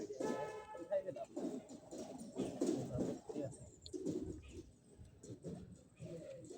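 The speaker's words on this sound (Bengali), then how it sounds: "আপনারা খেয়াল করে শুনবেন, পাখির ডাক, ওই যে পাখি।" Outdoors in a quiet spot, pigeons coo softly with other faint bird calls, while people talk nearby throughout.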